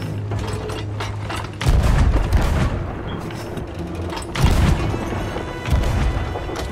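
Ship cannons boom in the pirate game Sea of Thieves, several heavy blasts spaced a couple of seconds apart amid clanking, creaking mechanical deck noise.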